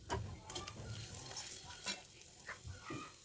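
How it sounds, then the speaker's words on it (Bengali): Dried red chillies and nigella seeds dropped into hot oil after frying banana flower pieces give a soft, close sizzle and crackle with light stirring scrapes, fairly quiet throughout. "মোচাগুলো ভাজা হয়ে গেলে এবার ওই তেলের মধ্যে আমি দিয়ে দিলাম শুকনো লঙ্কা ও কালো জিরে"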